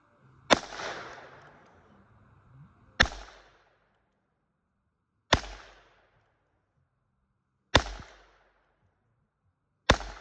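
Five sharp, loud gunshots from a Heritage Rough Rider revolver fired at a pizza box target about ten yards away, spaced roughly two to three seconds apart, each followed by a brief decaying echo, with no talking.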